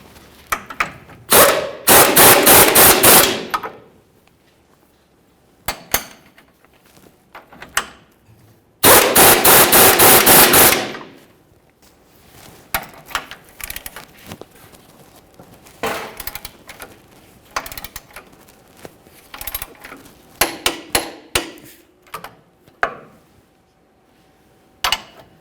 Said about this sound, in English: bottom this out and then torque each one of these mounting bolts and nuts to 136 foot-pounds.